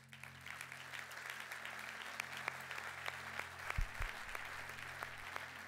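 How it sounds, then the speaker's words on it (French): Audience applause for a professor at the inauguration of an innovation hub, a steady wash of clapping heard from some distance in a hall, fairly quiet, with a low hum underneath. "un grand applaudissement pour professeur Marescot"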